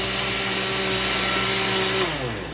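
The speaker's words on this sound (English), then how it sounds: "So see, slow blending with that, very slowly." A blender whirs steadily while slowly blending melon pieces into juice, a loud motor whine with a sustained tone that dips in pitch near the end as the load shifts.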